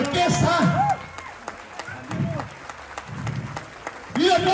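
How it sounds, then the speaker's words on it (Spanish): Audience applause for the orchestra at a dance festival in Pamatacuaro, Michoacán. The clapping is moderate and somewhat distant, and an amplified announcer's voice talks over it at the start and end. "Que se escuche un aplauso bonito para la orquesta."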